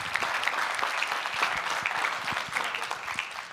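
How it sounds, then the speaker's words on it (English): A seminar audience breaks into brisk, sustained clapping, a dense patter of many hands heard close and steady for a few seconds without speech. "Let's give Katrina a round of applause."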